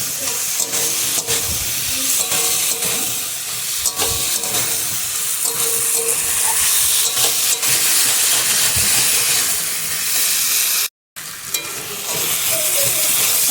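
Potatoes and peas frying and being stirred with spices in a pan, a steady loud sizzle and hiss with scraping stir sounds throughout, broken by a brief silent gap near the end.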